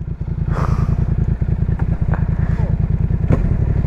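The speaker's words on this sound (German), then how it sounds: "abends mit einer lauten Karre durch die Stadt fahren" A loud motorcycle rides through the city in the evening, its engine throbbing steadily and close for the whole stretch with a few brief clatters above the rumble.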